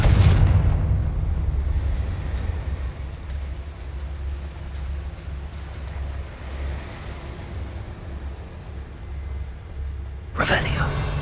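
Confringo spell explosion in Hogwarts Legacy: a sharp, loud burst at the start, then a long low rumbling hiss, and a second abrupt blast near the end.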